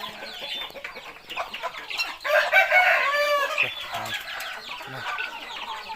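Fighting-cock roosters crow loudly in the middle stretch at a gamecock farm, with scattered clucking and other fowl noises around them at close range.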